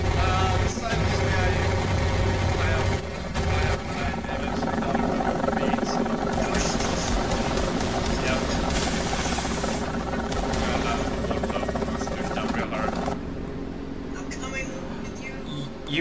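A helicopter in the War Thunder 2021 April Fools event gives a loud, steady engine and rotor drone that runs unbroken for the whole stretch, mixed with other game noise, and voices talk over it.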